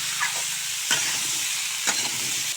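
Cut pumpkin and potato sizzle in hot oil as they are stirred into spices, a continuous hiss broken by a few scraping strokes of the spoon, with no talk.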